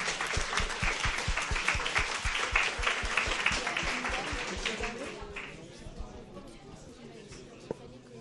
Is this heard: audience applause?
yes